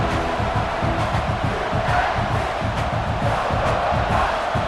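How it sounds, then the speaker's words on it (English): A packed stadium crowd at a Clemson versus South Carolina college football game roars continuously, a loud, dense wall of cheering and shouting that holds steady throughout. "This crowd, full throat, spreading the eardrums and letting them know it's going to be a long day."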